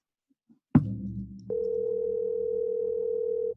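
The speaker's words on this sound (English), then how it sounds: "Let's see if he answers his phone." A telephone handset clicks and rustles as it is picked up, then a steady, continuous dial tone hums clearly for about two seconds without pause.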